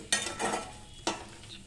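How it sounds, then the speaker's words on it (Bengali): A utensil scrapes and stirs a dry sattu-like litti filling in a kadai, two distinct scraping strokes with a soft sizzle between them, close and quiet. "এটা একটু নাড়াচাড়া করি"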